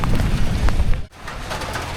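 Steady rain falling hard and close by, a dense broadband wash that drops out briefly at one point and then comes back, with no voices.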